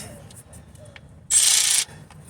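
A hand ratchet tightens a bolt on a 2004 Chevy Cavalier alternator, one short close burst of rapid clicking amid quieter background rustle.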